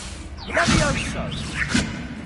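A Levioso spell is cast in the Hogwarts Legacy video game, giving a loud swishing whoosh followed by a soft thud and a second whoosh, with a voice speaking over it.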